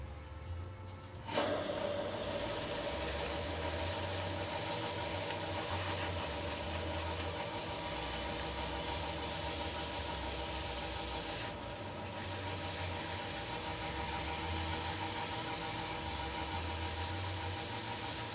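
Wood lathe spinning a spalted oak vase after sanding, a steady low motor hum and whir that starts with a sudden onset and then runs on evenly, with no voices.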